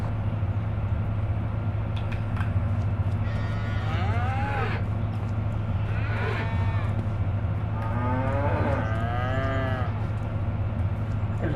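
Cattle moo in the Farming Simulator 25 game on the Oak Bridge Hills map: three drawn-out, wavering calls come in sequence over a steady low farm-ambience hum, fairly close and clear.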